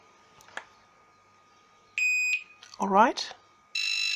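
A multimeter beeps while probing components on an EVGA GTX 970 graphics card during repair: one short steady tone, then a second beep near the end. Someone speaks briefly between them.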